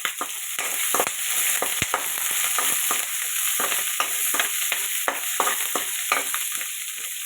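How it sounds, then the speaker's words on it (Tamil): Green chilies, garlic and ginger sauté in hot oil for a potato kurma, a loud steady sizzle with frequent rhythmic scrapes and taps of a spatula stirring the pan up close. "பூண்டு, இஞ்சி, பச்சை மிளகாய் போட்டு நல்லா வதக்குங்க."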